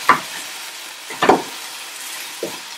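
Chicken pieces stir-frying in a wok for kung pao chicken, heard as three brief scraping, stirring bursts with a light sizzle between them, close and fairly quiet with no talk.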